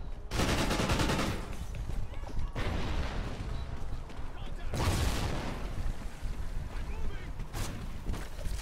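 Bursts of gunfire and explosions from Call of Duty Ghosts in infected and team deathmatch modes come in loud, dense blasts with sharp shots, under steady game noise and a player's voice.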